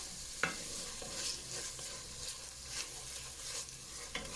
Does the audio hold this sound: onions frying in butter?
yes